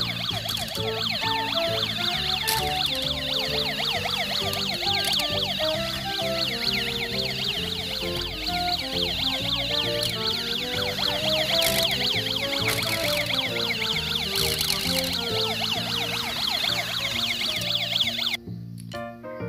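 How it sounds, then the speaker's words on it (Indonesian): A toy police car's electronic siren wails loudly and continuously with rapidly warbling, sweeping tones layered over a tinny melodic pattern, cutting off abruptly near the end. "Diiringi suara sirine ya"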